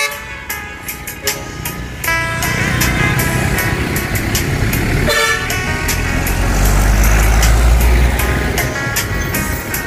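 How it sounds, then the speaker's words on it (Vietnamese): Car horns honk repeatedly in short, loud toots over a steady rumble of idling engines and motorbikes, a crowded traffic jam at the Dinh Khao ferry landing in Vinh Long, Vietnam. "bữa nay kẹt xe quá rồi"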